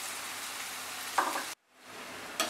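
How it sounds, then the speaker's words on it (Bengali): Capsicum and slit green chillies fry in a pan for vegetable fried rice, giving a steady, close hiss with a couple of brief stirring scrapes, a sudden short drop to quiet, then the sizzle building again. "এবারে আমি ক্যাপসিকামটা আর কাঁচা লঙ্কার চেরাটা দিয়ে দিলাম, দিয়ে আর কিছুক্ষণ এটাকে ফ্রাই করব।"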